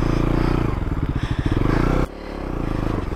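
A motorcycle engine revs hard and labors while stuck on a rough rocky road, pulsing loudly before dropping abruptly to a lower idle.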